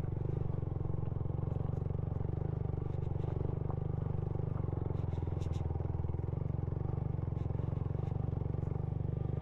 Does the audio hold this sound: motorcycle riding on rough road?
yes